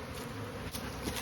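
Honeybees buzz around a hive in a steady, dense drone. The sound is close but quiet and continuous, with no other sounds over it.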